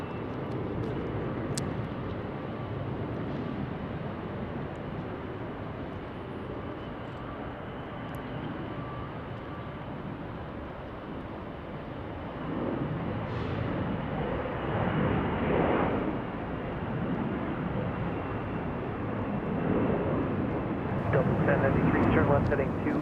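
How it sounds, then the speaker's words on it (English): A Delta Airbus A321 bound for Detroit takes off from Salt Lake City, its jet engines building into a broad sustained roar. The roar swells louder toward the end, and a person talks over it. "Now we're headed off to Detroit on this Airbus A321."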